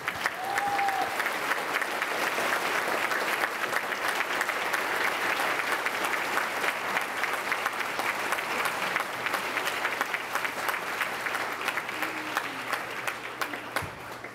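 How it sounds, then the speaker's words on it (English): Sustained audience applause for veterans at a JROTC recognition ceremony, steady and dense throughout, filling the hall at an even level with no talk on top. "Please join me in a round of applause for our veterans."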